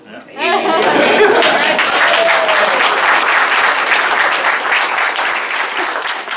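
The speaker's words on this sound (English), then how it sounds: "round of applause for you guys" A crowd at a Dallas art show breaks into loud applause that swells quickly and stays thick and sustained, with a little laughter and chatter mixed in under the clapping.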